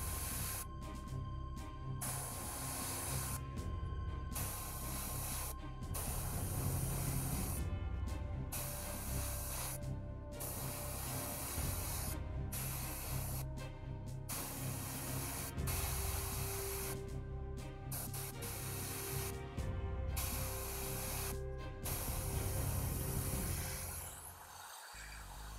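An airbrush sprays paint onto chemical toxic-style BattleTech model bases, giving a steady close hiss broken by short pauses between repeated bursts, with no talking.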